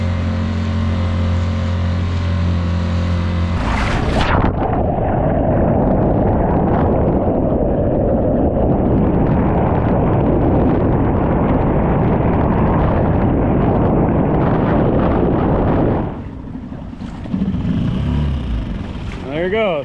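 A small Pond Prowler outboard motor driving a boat on a pond makes a loud, steady, close buzzing drone that holds for most of the stretch before dropping off, with a voice speaking over it.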